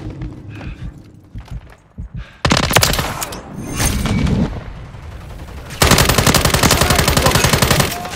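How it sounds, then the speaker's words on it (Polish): Heavy automatic gunfire in a Call of Duty: Modern Warfare 3 multiplayer team deathmatch: sporadic shots at first, then loud rapid bursts, ending in a sustained, close, fast-repeating machine-gun stream. "Jestem pod ostrzałem!"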